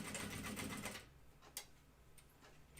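A sewing machine stitching a bar tack on a flight suit, a rapid steady whirr of needle strokes that stops after about a second, then faint clicks and handling noises.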